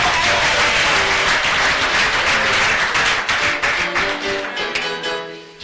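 A crowd applauds loudly and steadily, the clapping thinning out and fading toward the end.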